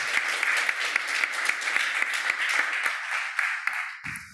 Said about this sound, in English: I would like to ask for a big applause for our panelists